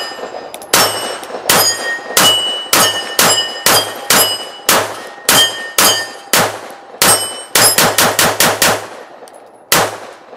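Pistol shots from a Live Free Armory LF320 Elite ring off a 10-inch steel target: about twenty loud cracks with metallic clangs, evenly spaced at first, then a quick burst and one final shot.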